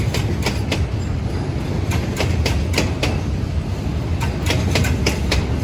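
A freight train's wheels clack over rail joints in a steady, loud rhythm of repeated metallic beats above a continuous rumbling roll, close by and without voices.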